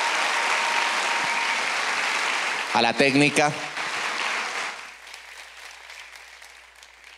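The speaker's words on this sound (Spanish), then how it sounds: "Un fuerte aplauso para ellos que hacen que esto sea posible." A live comedy talk-show audience applauds loudly and steadily, a voice briefly cuts in over the clapping, and the applause then fades away to quiet room tone.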